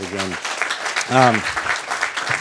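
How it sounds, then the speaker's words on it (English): Applause at a neighborhood rededication ceremony for a housing development, a crowd clapping steadily while someone speaks briefly over it near the start. "So if we can give him a round of applause"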